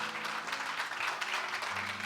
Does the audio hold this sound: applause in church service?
yes